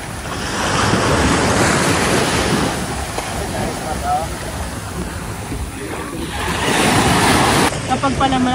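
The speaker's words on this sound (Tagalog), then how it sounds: "Lakas po yata ang alon." Loud ocean surf crashing and washing in waves, with strong wind buffeting the microphone throughout.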